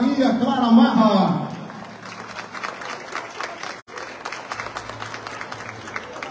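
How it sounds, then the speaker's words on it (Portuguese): Applause for deputy Maria Clara Marra at the Rainha do Café 2023 pageant, a crowd clapping steadily after a presenter's voice fades out, moderately loud and sustained. "Mais uma vez, uma salva de palmas para a nossa deputada Maria Clara Marra."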